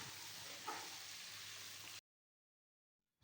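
Beef with salt fries in a karahi, giving a steady hissing sizzle for about two seconds before it cuts to silence.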